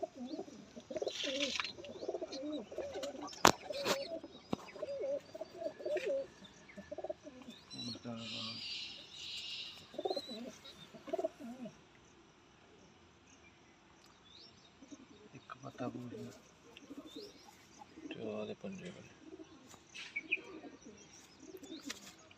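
Pairs of breeder pigeons coo repeatedly at close range, with soft chirps and occasional wing flutters, while people talk over them at times.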